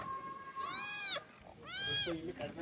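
A young kitten gives two clear, drawn-out meows close by, each rising then falling, with a quiet indoor background and faint voices between the calls.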